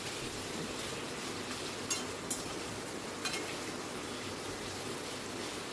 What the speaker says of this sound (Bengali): আমি গাঁটি কচুর টুকরোগুলোকে একটু ভেজে নিচ্ছি